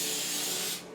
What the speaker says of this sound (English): I'm just going to give this an extra little shot of spray here where the paper's kind of sticking